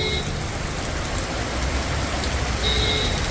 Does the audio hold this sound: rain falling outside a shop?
yes